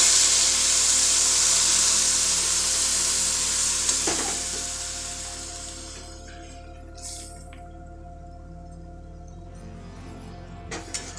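Potato payesh being stirred in a pan after boiled milk is added, with a soft sizzle and bubbling that fades gradually, plus a few light scrapes and clinks.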